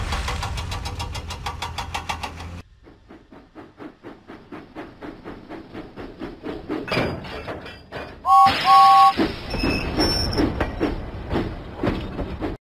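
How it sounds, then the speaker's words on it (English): Steam engine train in a Thomas and Friends video game, puffing in a steady rhythmic chuff that gradually quickens, with a short whistle-like tone and a narrator speaking over parts. "Huffing and puffing, James set out for the steamworks."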